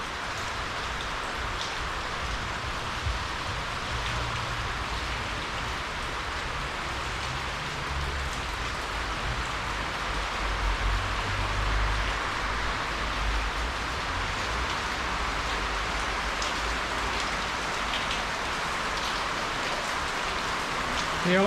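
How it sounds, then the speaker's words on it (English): Rain falls steadily over a main street in De Groot-en-Klien, Guyana, a continuous broadband hiss of drops on surfaces that stays even throughout, with faint low rumbles from passing traffic underneath. "You know what rain falling over there?"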